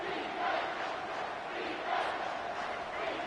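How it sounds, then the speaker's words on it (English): A football stadium crowd roaring steadily through a big third down in a college game at Washington, a distant, swelling wash of cheering and yelling with a few louder surges. "Big third down as the crowd gets behind this defense."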